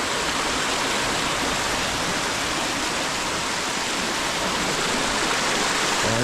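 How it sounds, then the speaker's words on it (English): A small waterfall on a rocky, mossy creek makes a steady, loud, broadband rush of falling water. The sound is close and unbroken throughout, with no voices. "Quite a nice little waterfall right here."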